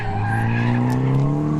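A Nissan S13 drift car slides with a loud, sustained tire squeal layered over the engine's droning whine, close and continuous through the whole moment.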